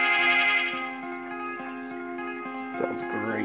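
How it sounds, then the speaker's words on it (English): A spacey, echoing synthesized effect with sustained layered harmonic tones that hold steady throughout and swell slightly, with a brief burst of higher texture near the end. "You know that's the sound of space."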